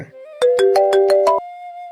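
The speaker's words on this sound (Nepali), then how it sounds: "जयसाबको फोन आएछ।" Phone ringtone for an incoming call, a loud, close electronic melody of about six rapid pulsed notes that ends in a held tone, with no speech.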